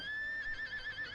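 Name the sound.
horse neighing in One Piece anime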